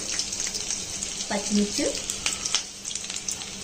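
Ginger pieces dropped into hot ghee give a steady, close sizzle and crackle, with a few clinks and stirring sounds over the frying hiss.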